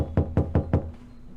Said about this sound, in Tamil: கதவு தட்டாதீங்கப்பா